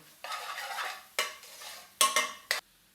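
A spoon stirs an almond powder gravy in a pan for restaurant-style murgi julsha, giving soft sizzling scrapes followed by several short, sharp clanks of utensil on pan, close and fairly quiet.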